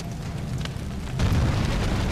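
A car explodes in the Splinter Cell video game, sounding as a continuous low rumbling roar that swells louder partway through and keeps burning steadily to the end, with no talk over it.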